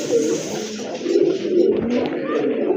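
Rajgolla pigeons in white and black plumage, with jug-shaped necks, coo steadily in low, rolling phrases, close by, with faint background noise.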